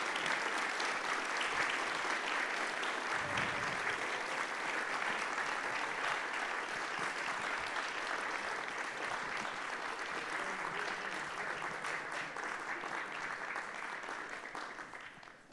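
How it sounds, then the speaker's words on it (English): An auditorium audience applauding after a physics talk, dense sustained clapping that stays strong for many seconds before starting to fade. "please give yourselves one more round of applause."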